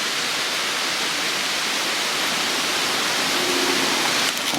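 Water in an Ohio woodland creek crossing flows in a steady, loud, broadband rush, like a small waterfall, constant and close with no voices.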